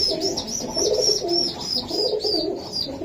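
Budapest pigeons give soft, steady cooing up close, repeated rolling coos with no talk over them.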